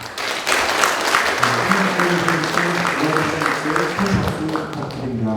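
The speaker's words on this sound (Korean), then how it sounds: "큰 박수 부탁드립니다." An audience at a panel discussion event applauds steadily, with a voice carrying over the clapping.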